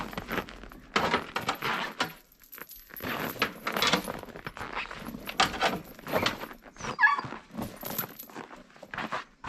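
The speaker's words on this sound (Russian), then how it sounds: "Итак, колесо у нас крутится, и мы все одеваем цепочку." Metal snow chain being fitted onto a turning rear wheel of a T-16 MG self-propelled tractor chassis in winter, giving repeated close jangling, clinking and rattling bursts with short gaps.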